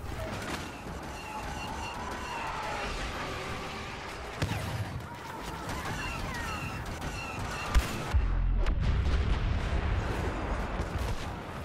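Blaster weapons fire repeatedly in the Star Wars: Battlefront video game, a busy battle of zapping shots with sharp bursts over continuous combat noise, heaviest near the end, with no talking.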